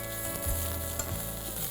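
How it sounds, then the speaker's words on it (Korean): Seasoned Korean radish namul stir-fried in a pan, giving a steady close sizzle with soft stirring scrapes throughout and no talking. "무나물 볶을 때 한 2분 볶아야 되는데"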